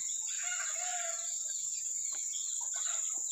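A rooster crows and chickens cluck on a farm that raises chickens for sale beside a rubber plantation. The crow is loud and close, with further clucks afterward over a steady high-pitched hiss.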